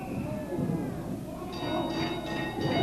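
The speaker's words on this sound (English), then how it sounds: "Referee rings the bell." A referee strikes the ring bell at a professional wrestling show, several ringing clangs in quick succession over a noisy, murmuring arena.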